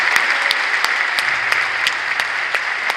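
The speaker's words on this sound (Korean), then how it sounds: "영광의 박수를 한번 하시면 좋겠습니다." A church congregation claps at a joint Korean Protestant Easter service. Loud, close applause runs throughout, with a few sharper claps standing out at regular intervals.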